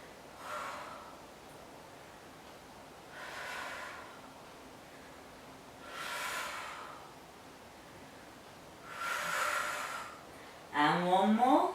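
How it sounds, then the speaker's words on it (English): Four slow, breathy exhalations during an ab curl in a gentle beginner workout, spaced about three seconds apart and fairly close, followed by a brief louder rustle at the end. "Out breath as you curl up."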